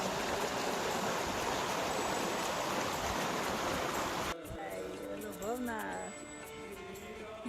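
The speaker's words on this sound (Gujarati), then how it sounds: "મસ્ત પાણી જાય છે" Steady rushing water from a flowing stream in the English countryside during light snowfall fills the background, loud at first and then softer as a voice speaks over it.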